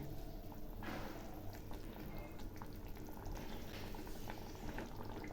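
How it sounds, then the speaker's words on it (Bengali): Katla fish kalia gravy bubbling in a pan, a faint, steady simmer of small pops and gurgles that continues without pause throughout, heard alone with no talk. "ঝোল ফুটছে,"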